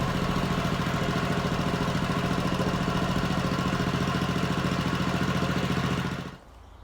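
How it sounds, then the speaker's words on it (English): A Honda lawn mower engine runs steadily at a warm-up idle, a close, even mechanical chug with a rapid regular pulse, holding constant for several seconds before cutting off abruptly. "let's get it started up, get the engine nice and hot so that oil comes out nice and thin"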